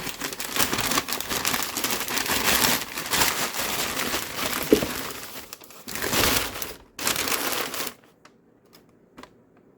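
Paper wrapping and packing paper from a box of purchased goods crinkle and rustle in bursts for several seconds, close and fairly loud, then fade to near quiet at the end.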